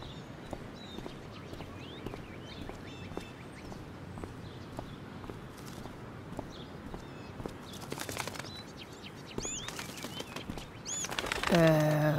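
A bird flaps its wings and flies off in Life is Strange: Before the Storm, a short burst of wingbeats near the end over quiet game ambience with scattered chirps.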